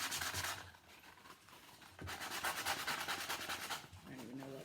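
Hand sanding a primitive wood sign with 180 grit sandpaper, close rasping back-and-forth strokes in uneven bursts with a brief pause between.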